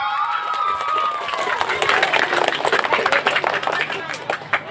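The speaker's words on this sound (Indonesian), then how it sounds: "kasih tepuk tangan." A village crowd at a Maulid Nabi gathering claps and cheers, the applause rising into loud, ragged bursts while a voice carries on over it.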